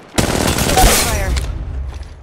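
Gunfire erupts in the mobile game Apex Legends Mobile, a loud dense burst of rapid automatic shots lasting about a second before trailing off into quieter echoes.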